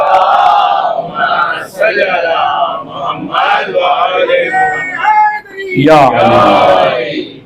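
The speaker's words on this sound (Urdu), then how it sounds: "ایک صلوات دیجیے گا محمد والے محمد" A crowd at a majlis gathering answers in loud unison, a swelling chorus of many voices reciting salawat together in a rising, shouted cadence that peaks twice.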